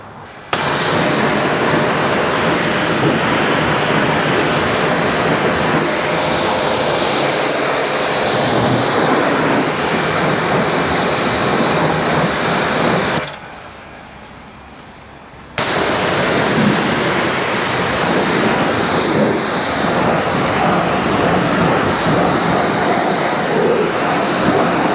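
Pressure washer water spraying steadily onto a car during a detail, a loud continuous hiss that cuts out briefly midway and then resumes at full force.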